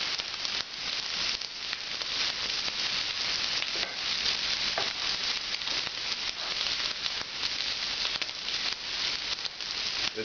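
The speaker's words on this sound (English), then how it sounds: "It's only possible to cook them this quickly because the pan is so hot." Shrimp sear in a very hot pan on a French bistro stovetop, a dense, loud, continuous sizzle and spatter held close up from start to finish.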